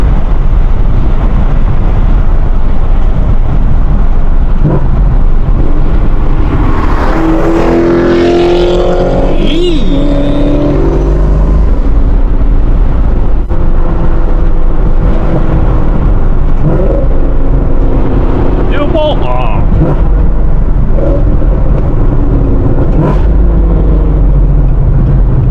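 A 650 wheel-horsepower ZL1 Camaro accelerates hard from inside the car, its engine roaring loudly and continuously as the pitch climbs through the gears, with voices speaking briefly over the noise.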